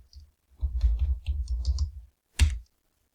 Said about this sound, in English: So I'm gonna type in beer.